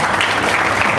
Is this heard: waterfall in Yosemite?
no